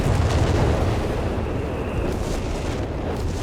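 A Panzer III tank is destroyed in the World War II strategy game Company of Heroes 3, a continuous roar of explosion and battle rumble that stays loud and dense from start to finish.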